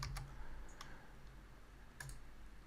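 A few sparse computer keyboard clicks, quiet and close, spaced out over a faint background, used to play a party game.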